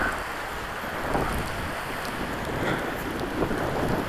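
Floodwater rapids rushing through a backyard wash during a 2023 washout in Peeples Valley, Arizona, a steady, loud broadband roar of churning water with no voices.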